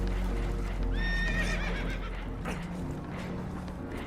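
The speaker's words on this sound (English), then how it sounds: "Horses are spooked, and we're taking on water." A spooked horse in Red Dead Redemption 2 whinnies loudly up close, a shaky, wavering neigh over a constant low rumble of water and hooves aboard a damaged boat.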